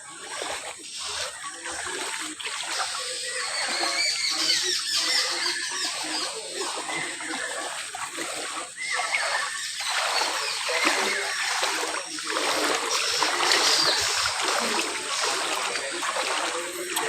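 People wade through knee-deep floodwater at the flooded Kankalitala Shakti Peeth temple, making a continuous, fairly close sloshing and splashing that churns steadily throughout with no pauses.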